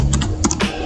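A computer keyboard typing a short terminal command, a quick run of crisp, close keystrokes clicking in an uneven rhythm in under a second.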